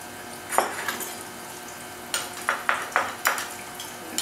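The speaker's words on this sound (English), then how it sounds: "Stir that together" A garlic, onion powder and olive oil paste being stirred for a pork roast rub: a single clink, then a quick run of four or five short scraping, tapping strokes, close and fairly quiet.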